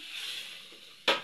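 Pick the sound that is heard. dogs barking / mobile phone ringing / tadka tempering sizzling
tadka tempering sizzling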